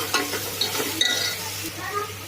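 Ginger paste fries in a pan while being stirred, making a steady close sizzle with light scraping and clinking from the utensil throughout the brief moment.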